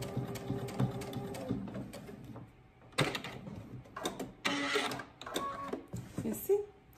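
A home sewing machine runs in several short bursts while back stitching on a sewing project, the motor whirring and stopping repeatedly, with a voice talking over parts of it.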